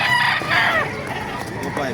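Chickens and roosters at a poultry market in Baliuag crow and cluck nearby in quick overlapping calls, one crow rising clearly above the flock.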